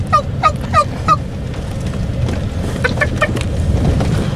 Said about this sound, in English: Gobble, gobble, gobble, gobble. I stand corrected. It is not gobble, gobble, gobble. It's yuck, yuck, yuck, yuck.